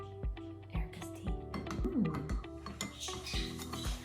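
A metal spoon clinks and stirs against dishes while tea with honey is prepared, with repeated sharp taps and scraping clatter close by. Soft chirps from a parrot come through faintly.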